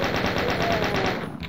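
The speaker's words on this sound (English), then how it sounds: "the chain gun does similar damage to the bullet from the original pistol, except obviously spits them out a hell of a lot faster" Rapid, continuous chain gun fire from the video game Doom, a steady stream of evenly spaced shots at close range with no pauses across the whole stretch.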